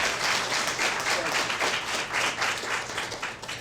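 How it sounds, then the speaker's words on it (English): Applause from an audience honouring Guy Loftman at a community discussion event in Bloomington, Monroe County, a dense, steady clatter of many hands that holds for several seconds and thins slightly at the end, with no talk over it. "please give a round of applause to Guy Loftman"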